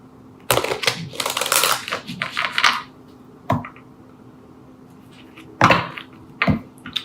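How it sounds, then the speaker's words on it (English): Oracle cards shuffled and pulled from a Shamanic Healing Oracle deck, with bursts of papery riffling and flicking in the first few seconds, a pause, then a couple of short card snaps and slides. "Just going to pull a Shamanic Healing Oracle card for Capricorn."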